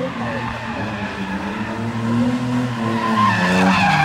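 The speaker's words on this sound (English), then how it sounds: "It's a BMW that's drifting." A BMW drifting, tires squealing in a long continuous screech under a loud, strained engine that climbs steadily in pitch and volume toward the end.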